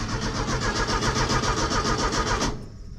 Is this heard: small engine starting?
yes